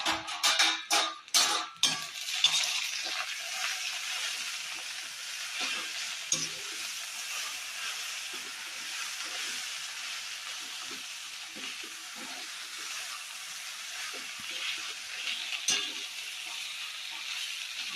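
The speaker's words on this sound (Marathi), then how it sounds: "आता आपण झाकण काढून बघूया किती वाफ आली आहे" A steady, close sizzle of okra cooking in a pan with a hiss of steam as the lid comes off, after a few clattering knocks at the start.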